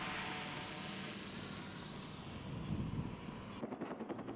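A Cobra attack helicopter flies over a military river-crossing exercise with tanks and armored vehicles, giving a faint, steady distant rotor and engine drone that ends in a brief rhythmic chopping beat, with no voices.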